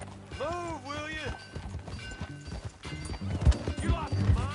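Horse hooves clip-clopping during a ride in Red Dead Redemption 2, rhythmic thuds building toward the end, with a horse whinny near the start and some game voices mixed in.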